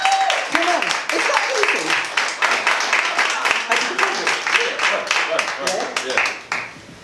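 Audience applause at an International Men's Day event in Luton, a sustained round of many hands clapping in dense rapid rhythm, fairly loud and close, with a voice speaking over it.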